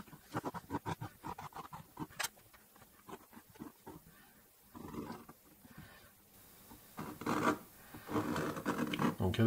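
A dry-point compass scratches fine lines into a wooden board, giving short, dry rasping strokes in bursts of varying loudness, close and with no voices.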